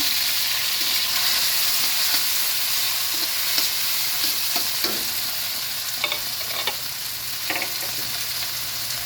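Tomatoes and softened onions are sautéed in a pan with a constant sizzling hiss, while a spoon stirs and scrapes in repeated clicks. Nobody talks.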